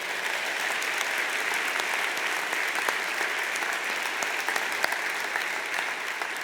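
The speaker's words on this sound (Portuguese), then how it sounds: "Vamos aplaudir a Ele com gratidão?" A church congregation applauding, a dense, steady roar of many hands clapping that holds evenly throughout without pause.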